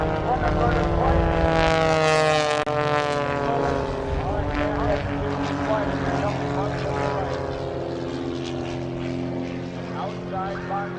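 Propeller aircraft roaring past at an air show in Memphis, Tennessee, with a loud engine drone that sweeps downward in pitch as it passes and fades slightly, an announcer talking over it.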